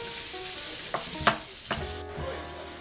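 Onion and garlic sauté in a pan for a Christmas rice-with-salt-cod dish, a soft continuous sizzle broken by a few sharp scrapes and clicks of a spoon stirring, close and with no talking.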